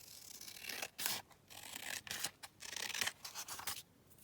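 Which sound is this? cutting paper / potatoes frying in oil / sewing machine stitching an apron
cutting paper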